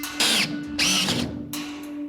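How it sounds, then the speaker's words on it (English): A power drill bores into angle iron in three loud, close bursts of high whining, each running for roughly half a second, with a steady hum underneath throughout. "We can drill these on here."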